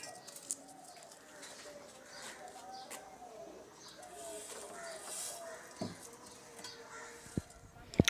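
Pigeons or doves coo softly on a rooftop, a faint low murmur of calls against quiet outdoor background with a few brief taps.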